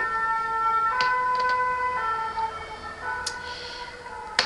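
A fire engine siren passes outside, its wailing tones stepping between pitches at moderate, somewhat distant volume over quiet room ambience, with no one talking.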